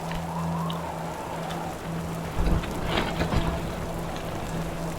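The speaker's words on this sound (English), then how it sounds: "I can watch the rain coming in" Steady rain patters on a tent at a wild camp on a coast-to-coast hike, with low rumbles of thunder rolling through the middle and a faint low hum underneath.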